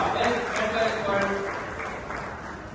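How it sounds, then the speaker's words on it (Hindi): Applause for a doctor receiving a best medical consultant award at an Indian award ceremony, a steady roar of many hands clapping through the whole stretch, fairly loud and continuous. "जोरदार तालियों से स्वागत करते हैं"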